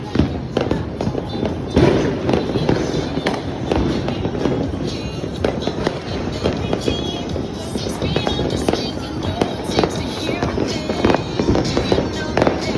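New Year fireworks bursting continuously, with dense crackling and repeated booms close by, a steady barrage of explosions with no pause.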